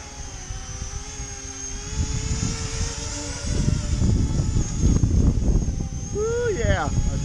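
An E-flite Convergence RC plane hovers outdoors in strong wind, its steady electric motor whine running throughout over heavy low wind buffeting that swells in the second half, with a brief rising pitch change near the end.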